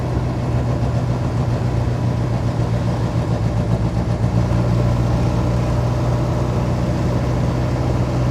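Diesel engine of a Jeep Wrangler YJ running while the vehicle drives along a country road, a steady low chugging rumble that stays constant and close throughout with no talk.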